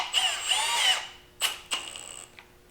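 A Milwaukee 18V Fuel cordless drill whirs up and winds down in a short close burst, followed by a couple of brief spins and mechanical clicks, with no voices.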